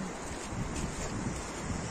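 The Marsyangdi river rushing steadily near Chame in Manang, Nepal, a dense continuous roar with wind on the microphone.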